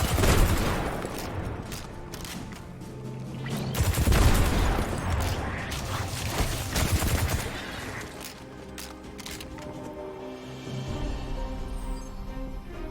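Rifle fire in a Destiny 2 battle, irregular bursts and single cracks with occasional heavier booms, fairly loud and continuous, thinning out toward the end.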